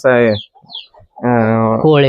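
Native country chickens and large roosters on a farm raised alongside sheep give loud, close, strained clucking calls in two bursts separated by a short pause.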